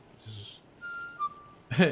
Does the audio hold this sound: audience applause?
no